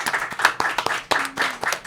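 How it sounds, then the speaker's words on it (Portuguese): A small podcast audience claps briefly and unevenly, with a few scattered hand claps close by and no voices. "Palmas!"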